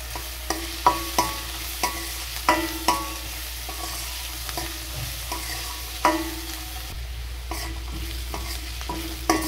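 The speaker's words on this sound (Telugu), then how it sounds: "ఇలా వేయించాలి." Onions with turmeric frying in a pan: a steady low sizzle runs under regular spoon scrapes and taps, about one every half second, close and clear, with no voices.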